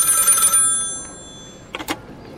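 A telephone bell in an audio drama rings once, loud and bright for about half a second, then fades, followed by a brief clunk, like a receiver being picked up.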